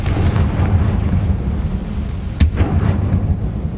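A Confringo blast spell fires in the Hogwarts Legacy video game as a loud, rumbling burst over a dense low roar, with a sharp crack near the end and no speech.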